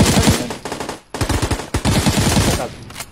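Rapid bursts of automatic gunfire from the video game PUBG, loud and close, in several volleys with a brief pause between them.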